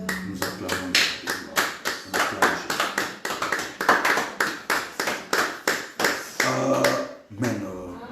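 A congregation at a midday prayer service claps in a steady rhythmic beat, loud and close, with voices underneath and a brief pause near the end.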